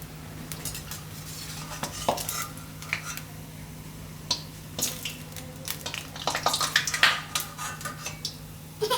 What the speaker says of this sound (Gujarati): હવે આને આપણે પાણી લેવાનું છે એક વાસણમાં આ રીતે, અને ડાયરેક્ટ પાણીમાં નાખવાના છે.